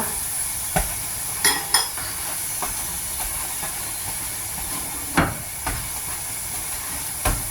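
A chapati cooks in a hot pan with a constant loud hiss and sizzle, broken by several brief scraping and tapping knocks from handling and flipping, no talk.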